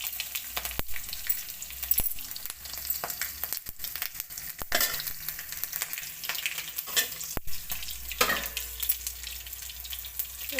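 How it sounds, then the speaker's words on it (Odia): Green chilies and panch phoran fry in hot oil in a kadai, a steady crackling sizzle with sharp pops and spatters scattered throughout, alone without talk. "ଏବେ କଡ଼େଇ ବସେଇଲି, ତେଲ ପକେଇଲି, ତାପରେ ଯାହା କଞ୍ଚା ଲଙ୍କା ପକେଇଦେବେ, ତାପରେ ପଞ୍ଚ ଫୁଟଣ ପକେଇଦେବେ"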